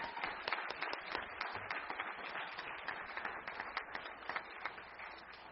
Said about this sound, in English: Let's give our 18 finalists a big round of applause